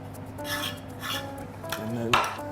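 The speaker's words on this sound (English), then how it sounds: "quickly smear the plate with some more puree" Puree spread across a plate with a utensil gives a few faint, soft scrapes and light clinks of metal against ceramic, quiet and close.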